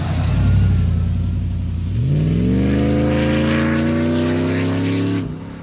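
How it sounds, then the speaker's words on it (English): An 800 HP Hennessey-tuned Cadillac Escalade accelerates hard on a highway, its engine note rising steadily through a long pull from a low rumble to a loud climbing roar, heard from inside the vehicle, then easing off near the end. "I'm gonna run out here to the highway and just make a blast down the next exit and come back."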